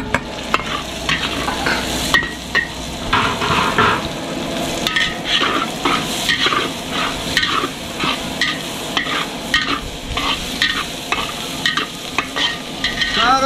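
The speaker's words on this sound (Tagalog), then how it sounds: "ngayon po, magigisa na tayo ng ating bawang" Garlic and onion sizzle in a hot pan for pork menudo, with a steady frying hiss broken by repeated scraping and stirring strokes, close and without talk.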